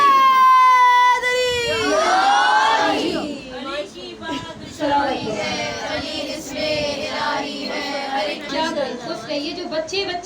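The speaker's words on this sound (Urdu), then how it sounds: "یہ جو بچے بچے نعرے لگاتے ہیں" Crowd of voices, including children, shouting chants in unison at a religious gathering, starting with a loud sustained rising call and continuing as rhythmic group shouts with a speaker's voice mixed in.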